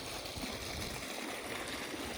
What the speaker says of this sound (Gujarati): પાણી ચાલે છે, પાણી ઘઉંમાં.